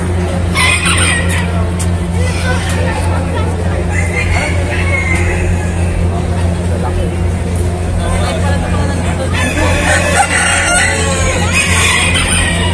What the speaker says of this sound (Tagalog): Ito mga malalaking manok.